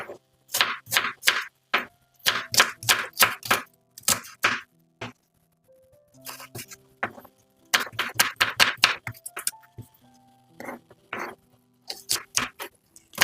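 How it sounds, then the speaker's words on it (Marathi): Onions sliced very thin with a knife on a board, producing fast rhythmic bursts of crisp chopping strokes, close and clear with short pauses between runs. "त्यानंतर अगदी बारीक स्लाईडमध्ये हे कांदे चिरायचे आहे"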